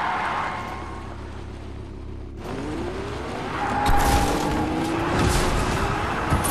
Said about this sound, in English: I just did a massive drift